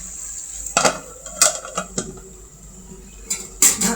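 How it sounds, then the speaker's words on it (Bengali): Metal lid set onto a cooking pot in a home kitchen, a few sharp clanks and clatters spread over several seconds, close and fairly loud against a quiet background. "ঢাকনা দিয়ে ঢেকে দিলাম।"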